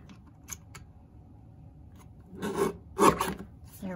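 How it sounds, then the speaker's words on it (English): Mini paper trimmer slicing cardstock close to a stamped sentiment, giving soft rasping scrapes and a couple of brief louder cutting strokes near the end, close and quiet with no talk. "So I'm just going to take my little mini trimmer and cut"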